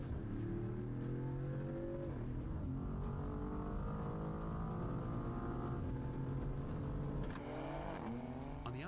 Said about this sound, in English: It may not sound like a V8, but Dodge's 6 sounds great.